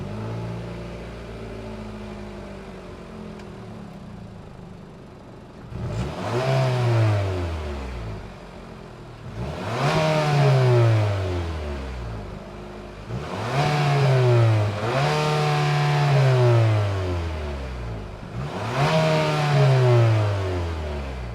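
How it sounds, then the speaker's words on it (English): A 2025 Nissan Murano's 2-liter variable compression turbocharged four-cylinder idles steadily, then is revved hard four times, each blip climbing quickly and falling back. The revs are loud, close and heard alone. "that was the sound of the 2-liter variable compression turbocharged 4-cylinder sold by Nissan"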